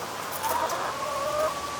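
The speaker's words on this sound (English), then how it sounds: "I let them all out and they're out here strutting and clucking." Free-roaming backyard chickens clucking softly outdoors, a few faint drawn-out calls rising over a quiet background with no talk.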